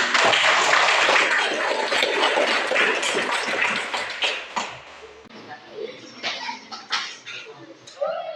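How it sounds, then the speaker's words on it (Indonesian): A class of students applauding a group after their drama presentation, a burst of dense clapping that tapers off into scattered claps and room noise. "kelompok yang lumayan bagus, lengkap adalah kelompok 1. Kita berikan tepuk tangan untuk"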